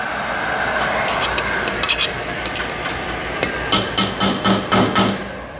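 Sharp metallic hammer strikes on a punch ring out repeatedly while removing bearings and oil seals from a two-stroke engine, sparse at first and then in a quicker run of blows near the end, over a steady background hiss.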